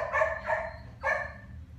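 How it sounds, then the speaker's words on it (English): A dog gives three short, sharp barks, two close together and then one after a brief pause. The barks are near and fairly loud indoors over a low background hum, with no talking. "Sorry about the dog."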